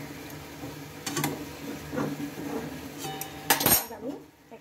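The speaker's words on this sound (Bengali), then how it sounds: "এখন আমি এই জলের মধ্যে থালাটাকে ঠিকভাবে বসিয়ে নিলাম" A metal plate is set down into a kadai of boiling water for steaming, giving a few close metallic clinks and scrapes against the pan over a low background, with one sharper clatter near the end.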